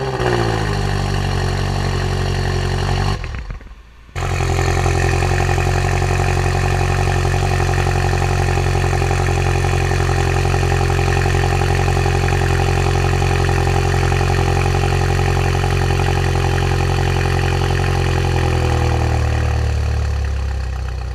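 A warmed-up BMW M6 coupe engine idles with a loud, steady, deep droning tone, with a brief dropout early on and the pitch easing slightly near the end.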